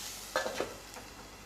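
A spoon stirs snake gourd thoran in a pan, a few soft scrapes and light sizzle over a quiet steady background, close and brief.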